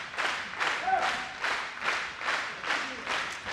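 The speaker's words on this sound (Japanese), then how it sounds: "場内からも拍手が送られる。" Arena crowd at a pro wrestling match applauding steadily, a rhythmic wash of clapping that rises and falls in regular waves, moderately loud with a few faint voices mixed in.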